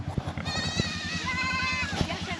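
A sheep on a road in South America gives one long, wavering bleat over a steady low rumble, close and clear, with faint background noise around it.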